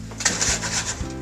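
A pot of beef bourguignon gets its lid and slides into the oven, giving a few light metallic clinks and knocks close by, brief and without talk.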